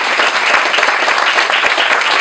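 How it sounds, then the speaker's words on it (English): Outdoor audience applause at a compost pilot program event, a continuous, dense patter of many people clapping close by, with no talk over it. "please a round of applause for everybody who helped get us to this point today."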